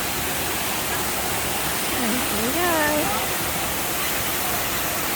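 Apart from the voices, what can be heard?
water flowing at a bird park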